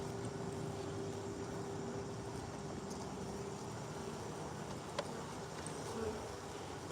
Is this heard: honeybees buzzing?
yes